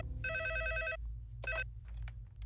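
A telephone rings in two bursts, a long trill followed by a shorter one, over a steady low hum.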